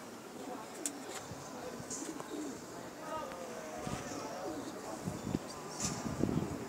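Pigeons coo on a rooftop in a steady murmur of soft, low calls amid ambient bustle, with occasional sharper chirps and a busier patch near the end.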